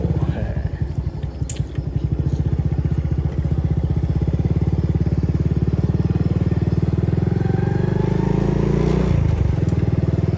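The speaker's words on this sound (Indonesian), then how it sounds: "Pagi ini kita akan coba jalan-jalan lagi bersama motor kesayangan kita, Absolute Revo." A Honda Absolute Revo motorcycle engine runs steadily throughout a rural morning ride, its rapid, even pulsing loud and close, with a slight rise in revs near the end.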